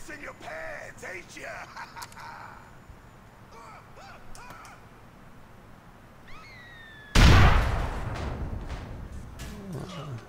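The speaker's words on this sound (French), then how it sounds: "Ouais, une petite grenade, ça lui fera pas de mal à lui." Grenade explosion in the video game GTA IV, one sudden loud blast with a rumbling tail that fades, coming after game sounds and talking voices.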